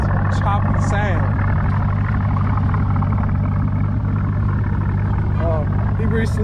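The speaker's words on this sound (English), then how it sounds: "Y'all hear that idle? Magnum flow exhaust. It's got that nice choppy sound." A 2000 Chevrolet Corvette C5 with a Magnum Flow exhaust idles with a steady, deep, throbbing rumble that holds throughout, while people talk over it close by.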